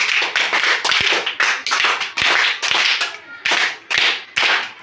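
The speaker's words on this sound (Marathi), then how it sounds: "दोघांसाठी पण एकदा जोरदार टाळ्या वाजवायच्यात" A group of children clap loudly together after a classroom concentration game, applauding both the winning girls' team and the boys' team in repeated bursts of dense, close applause with brief pauses between them.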